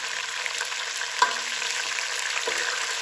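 Steady sizzling and crackling of chicken frying in a pan for harissa, with a brief stir or clatter partway through; no voices.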